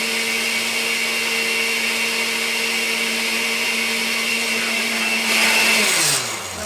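Loud, continuous whirring from a blender mixing chili sauce with xanthan gum, holding a steady motor tone before briefly surging and then winding down near the end.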